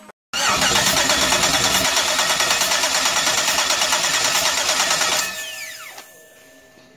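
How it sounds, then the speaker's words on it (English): A car engine cranks with the starter during a compression test: rapid, even, rhythmic chugging for about five seconds, loud and close, then the starter stops and a fading whine trails off. "crank the engine and you get the readings"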